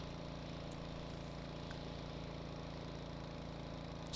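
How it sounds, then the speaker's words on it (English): A boat engine in the game Stormworks drones steadily at low volume, a faint, even mechanical hum with no clear change over a few seconds and no talk. "you can hear my engine slowing down"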